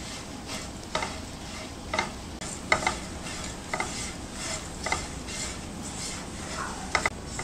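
Flattened rice (poha) roasting in ghee in a pan: a continuous gentle sizzle with a spatula scraping and tapping the pan at regular intervals, close and steady, with no voices.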